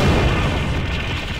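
A shot and explosion in a video game tank battle make a single loud, deep boom that rumbles and fades over a second and a half.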